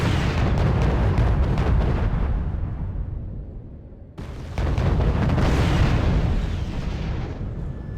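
Artillery barrages and explosions in the military strategy game Wargame: European Escalation, two long rolling booming roars, each decaying gradually, separated by a sudden fresh blast.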